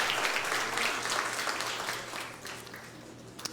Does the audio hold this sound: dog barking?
no